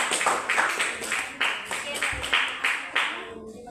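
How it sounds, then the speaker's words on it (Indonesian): A small group claps in a junior high school classroom in Indonesia, a burst of irregular hand claps lasting a few seconds before fading out. "Tepuk tangan dulu buat kelompok 2."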